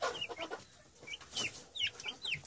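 Ross 308 broiler chickens that have escaped cluck and chirp in short, repeated calls, fairly close and alone with a little background noise.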